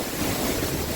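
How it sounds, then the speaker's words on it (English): Waterfall just east of Vik on Iceland's south coast, heard as a dense, steady broadband roar of rushing water with wind noise, loud and close throughout the short stretch, no voices. "So that's the Scarface Waterfall here, just east of the town of Vik, Iceland."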